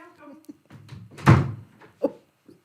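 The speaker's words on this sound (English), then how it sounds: "The door closed." A door closes with a solid thunk, heard mid-clip amid muffled voices and other faint knocks.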